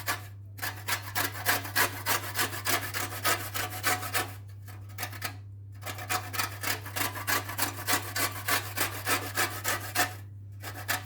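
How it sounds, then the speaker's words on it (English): A lemon's skin is scraped in quick repeated rasping strokes, close and fairly loud, in bursts with two brief pauses between runs. "Just go and scrape it. Scrape the skin off."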